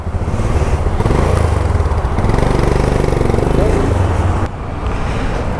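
A Royal Enfield Himalayan BS6 motorcycle idles nearby with a loud, steady single-cylinder thump that drops slightly near the end, while people talk in the background.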